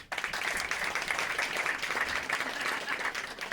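Sustained crowd applause at a Marseille comedy show, a thick continuous wash of clapping that starts abruptly and holds steady throughout, with no speech over it.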